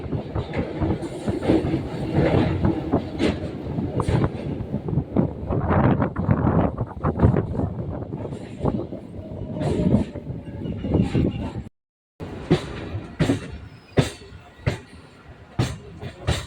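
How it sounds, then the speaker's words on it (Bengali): A passenger train on the Krishnanagar City to Ranaghat line rolls along the tracks and slowly shifts onto another track near the Churni river, with loud rumble and a run of sharp wheel clacks at joints and points, plus wind buffeting. "আমাদের ট্রেন এখন ধীরে ধীরে ট্র্যাক চেঞ্জ করছে"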